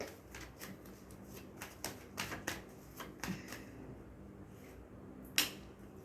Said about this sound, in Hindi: अपने आप ही कार्ड्स पॉप आउट हो रहे हैं